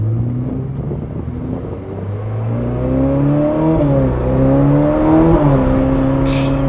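A Ferrari 488 Pista accelerates hard from a standstill, its combustion engine note rising in pitch through rising revs with brief dips at gear changes, loud and close throughout.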